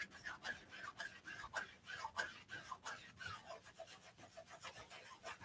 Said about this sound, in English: I'm going to really work this gesso into the canvas.